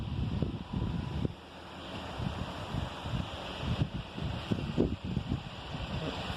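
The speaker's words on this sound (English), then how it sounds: "it's already a windstorm" Strong, buffeting wind gusts roar across the microphone at a lakeside campsite at Lahontan Reservoir in Nevada, pulsing in uneven bursts over a constant rushing background.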